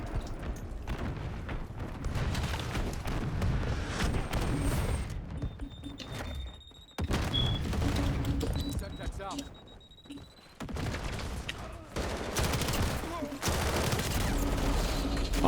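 Rapid gunfire from hip firing in Modern Warfare crackles in repeated bursts, with occasional booms and short lulls in between, while voices talk over the action.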